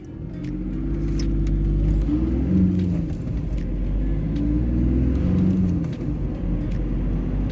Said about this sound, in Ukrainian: спробуємо розігнатися з 0 до 100 і що як машина себе буде показувати